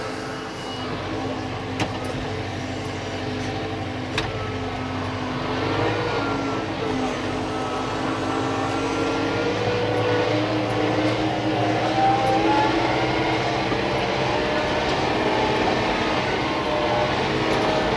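John Deere 4066R compact tractor engine rising in pitch as its auto throttle revs it up, a steady loud drone with broadband rumble that swells and holds, running on its own without talk.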